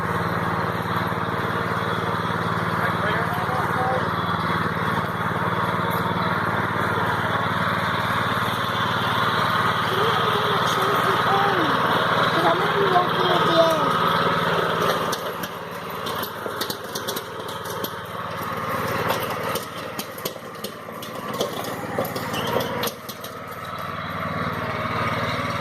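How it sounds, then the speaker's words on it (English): A tractor engine drones steadily while towing a camper, a continuous mid-pitched mechanical hum at moderate distance that thins out and turns rougher and more intermittent toward the end. "They are moving the camper with the Boland's tractor"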